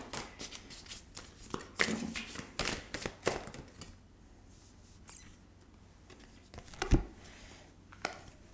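Tarot cards shuffled by hand in a series of quick riffling and crinkling bursts up close, thinning out into a few scattered flicks and taps near the end.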